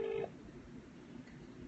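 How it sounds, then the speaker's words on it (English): BlackBerry phone dialing: a short run of touch-tone keypad beeps at the start, then a low hum of room noise as the call connects. "I'm ringing. It's a BlackBerry, guys."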